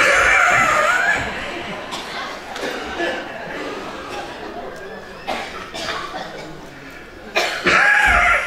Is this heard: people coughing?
yes